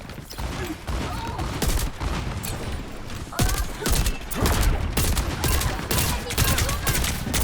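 Overwatch gunfire during a collegiate esports match, with repeated bursts of shots and thumps crackling through a busy mix while a caster's voice sits underneath.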